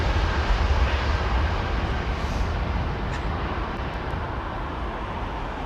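A large airliner arriving on runway 27R roars loudly and continuously, a broad, heavy jet rush that eases slightly in level over several seconds, with no voices.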